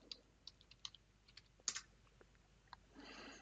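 Quiet keystrokes on a computer keyboard while a password is entered at a Linux server login prompt: a handful of sparse, irregular clicks, one sharper tap near the middle, then a soft hiss at the end.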